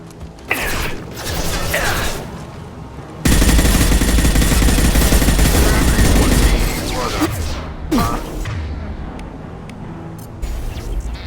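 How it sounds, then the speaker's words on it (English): Shotgun fire in the video game Mass Effect 2, loud sustained blasts and mechanical clatter mixed with game effects, with voices talking over the action. "Shotgun!"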